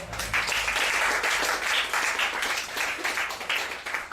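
A church congregation applauds at a seminar, steady dense clapping filling the room for several seconds, loud and continuous with no speech over it.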